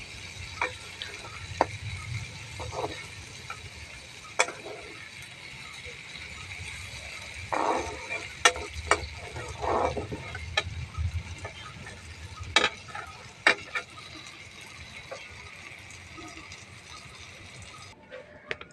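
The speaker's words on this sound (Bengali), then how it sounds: "দেখো আর একটুখানি ভাজা ভাজা করবো, পুরো তেলের উপরে ভাজি করে নিয়েছি বন্ধুরা।" Taro stolons (lati) frying in a pan of oil give a steady low sizzle with scattered clicks and scraping stir sounds, moderately close, no talking.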